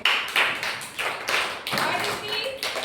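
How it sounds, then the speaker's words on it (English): Children in a classroom clap their hands in several quick bursts of clapping, close and fairly loud, with a voice in between. "Can you clap?"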